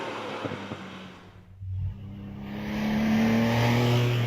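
A Lola hillclimb car fitted with a 3.2 litre flat-six Porsche engine at the Prescott hill climb revs hard. A loud, close engine note dips briefly, then climbs steadily as the car accelerates away, with no talk.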